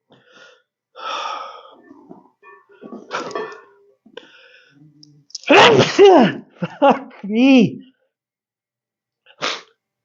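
A rapid series of loud, close sneezes with gasping breaths between them, followed by a brief spoken remark and one more sneeze.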